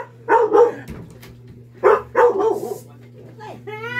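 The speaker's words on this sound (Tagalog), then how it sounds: "Magagalit yung aso ko" A dog barks in a few short bursts of sharp yelps, fairly close, with people talking around it and a steady low hum running underneath.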